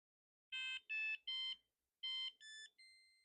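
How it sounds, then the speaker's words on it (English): Deep brain stimulation charging handset signals a full charge with a series of electronic beeps: three quick loud tones, a pause, then three more that step up in pitch and fade, clear and alone. "it should be beeping any minute to let me know it's charged"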